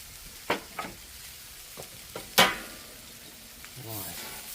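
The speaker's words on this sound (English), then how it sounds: "Now we're going to add the steak back to it, hopefully without dropping it off of the grill bit." Steak and onions frying on a grill for a Philly cheesesteak, a soft steady sizzle under several sharp scrapes and clatters of a utensil stirring the meat, close by.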